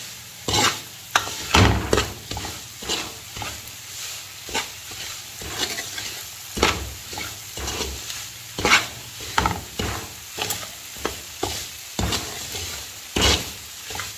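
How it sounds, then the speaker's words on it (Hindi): Semolina roasting in a pan over a medium flame, a spoon scraping and stirring in irregular strokes with a soft dry sizzle underneath, close and alone. "ये तकरीबन मीडियम फ्लेम है जिसके ऊपर मैं सूजी को जो है वो भून रही हूँ।"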